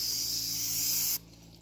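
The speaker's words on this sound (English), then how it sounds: "you've sprayed your filter oil" Aerosol filter oil sprays steadily onto the foam air filter of a Kawasaki Brute Force 300 ATV, a close, continuous hiss lasting just over a second before cutting off abruptly.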